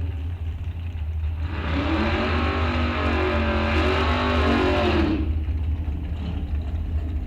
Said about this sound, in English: Dragster comes up and goes by and lights a wind light